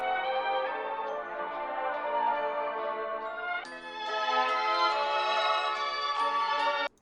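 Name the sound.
pitched-down beat intro sample transitioning to higher pitch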